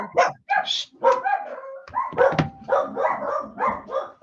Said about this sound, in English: I hear wiener dogs.